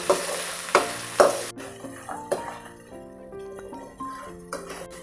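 Lemon rice seasoning with cashews, salt and turmeric frying in a pan over a medium gas flame, a steady soft sizzle under repeated clinks and scrapes of a spoon stirring against the metal.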